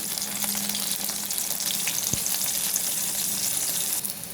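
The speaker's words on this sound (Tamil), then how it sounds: "இதில் உரித்து வச்சுருக்கிற இந்த வெங்காயத்தையும் பூண்டையும் போட்டு நல்லா வதக்கிடுவோம்" Onion and garlic sauté in a pan with an even, crackling sizzle throughout and one sharp clink around the middle, heard up close with no talking.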